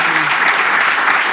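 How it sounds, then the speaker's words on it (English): Applause from a conference audience after a fireside chat, a dense, steady wash of many hands clapping at once, close and loud, with no voices over it. "a big round of applause for Matthew"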